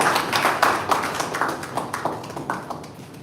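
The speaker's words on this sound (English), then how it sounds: "give Marriott another round of applause for the presentation" An audience at a Lagos environment ministry assessment session claps for a presentation, a loose patter of scattered hand claps that fades gradually over a few seconds.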